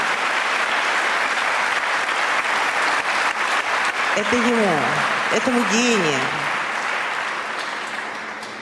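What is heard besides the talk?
audience applause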